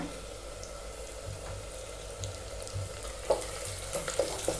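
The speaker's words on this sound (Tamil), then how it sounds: "வெங்காயம் வந்து நல்லா வதங்கட்டும்." Onions with curry leaves sautéing in a pan make a faint, steady sizzle with a few soft clicks of stirring near the end, for green leaf gravy.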